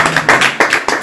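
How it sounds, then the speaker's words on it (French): Brief burst of clapping from a church congregation during a deliverance service, quick bright hand claps in an uneven rhythm, close and loud, with no speech over them. "Applaudissez."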